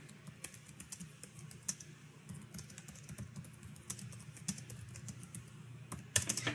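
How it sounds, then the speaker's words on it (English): Someone types quickly on a computer keyboard, producing a close, continuous patter of light key clicks with uneven rhythm and occasional louder keystrokes. "I'm just going to type something in quick."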